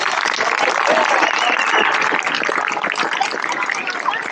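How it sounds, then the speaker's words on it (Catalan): An audience at the Sant Sebastià festival gives a dense, steady round of applause for Lluís Puig, many hands clapping together close by, holding at a constant level throughout. "Un fort aplaudiment per Lluís Puig"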